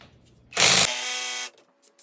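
A Somada cordless impact wrench loosens a lug nut in one loud burst of about a second, a harsh, dense whirring rattle that stops abruptly, with only faint handling noise before and after.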